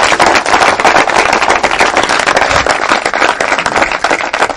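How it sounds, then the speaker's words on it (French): A studio audience at a televised interview show breaks into sustained applause, dense and steady clapping from many hands filling the room for several seconds. "Ça mérite des applaudissements aussi"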